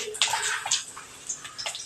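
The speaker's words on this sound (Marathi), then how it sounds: "पाणी मी ओतून टाकणार आहे" Cooking water poured off steamed vermicelli through a strainer, a close, steady splashing rush lasting about two seconds with small surges, no voices.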